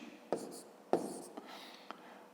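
Pen on paper writing numbers by hand during a fifth-grade subtraction exercise, a few soft scratchy strokes with brief taps, close and quiet.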